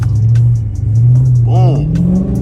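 Dodge Charger SRT spinning out on a snowy road, its engine droning steadily and then revving upward as the car slides, with a voice speaking briefly over the roar.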